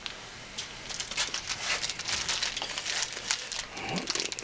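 Wrapping paper crinkles and rustles around a Maven Performance turbo mount for an LS-swapped Foxbody as it is unpacked, a busy run of close crackling handling noise with no speech.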